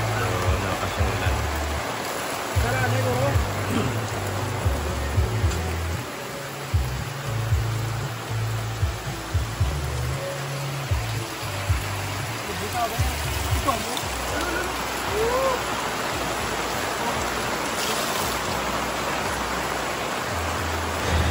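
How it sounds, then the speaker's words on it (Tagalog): Rain falling beside a river at a riverside campsite, a steady dense hiss of drops and rushing water with gusts of wind, while people talk quietly underneath. "unti-unting lumalakas ang ulan at humahampas na rin ang hangin"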